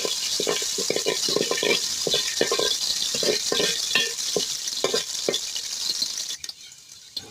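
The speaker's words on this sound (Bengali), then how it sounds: "তারপর ওইদিকে আমি তেজপাতাগুলো লং এলাচিগুলো দিয়ে দিলাম।" Bay leaves, cloves and cardamom fry in hot oil in a pan with a steady bright sizzle, broken by repeated short knocks and clatters from stirring, before the sound thins out near the end.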